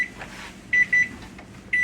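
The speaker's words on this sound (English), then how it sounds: "the alarm's fixing to go off" Three short, high electronic beeps from an oven timer, evenly spaced with gaps between them, over quiet room noise.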